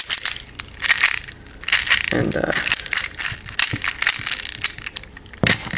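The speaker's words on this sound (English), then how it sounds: "That clicking you're hearing is magnets to keep this thing a little more stable." Magnets click in a 95mm 2x2x5 Rubik's cube as its layers turn, making loud, close bursts of rapid clicking and rattling in uneven runs, with one brief spoken word.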